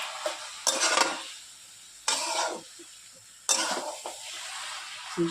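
Spatula strokes stir shredded cabbage (bandhakopi) with garam masala in a kadai, no onion or garlic, in three distinct scraping bursts with a faint sizzle in between.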